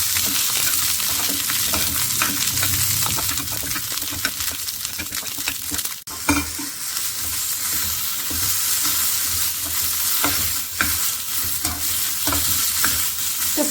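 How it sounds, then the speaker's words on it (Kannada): Green chillies frying in melted ghee while being stirred, continuous loud sizzle with frequent scraping and clattering strokes and one sharp knock midway. "ತುಪ್ಪದಲ್ಲಿ ಹಸಿಮೆಣಸಿನ್ಕಾಯಿನ ಈ ರೀತಿ ನೀವು ಹುರ್ಕೋಬೇಕು."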